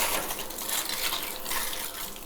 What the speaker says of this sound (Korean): 아유, 샤워하면은 더 시원하지.